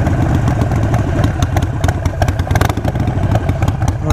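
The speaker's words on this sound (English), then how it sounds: "I did change the tune to have some decel pop, which sounds kind of nice." Harley-Davidson Iron 883 with a V&H Fuelpak FP3 tune idles with a loud, lumpy clatter, and a string of sharp crackles from the exhaust runs through the whole stretch, close and continuous with no talk.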